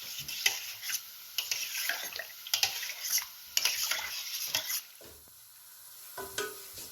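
A spice paste for green peas pulav sautés in a pan, with a soft sizzle under repeated scraping stirs and light utensil clicks that fade toward the end.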